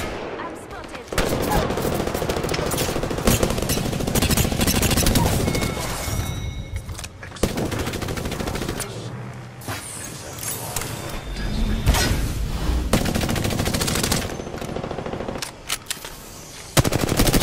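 Sustained full-auto fire from the Sentinel in Apex Legends, loud rapid shots running almost continuously in dense bursts with brief gaps, mechanical reload clatter between, and game voice lines mixed in.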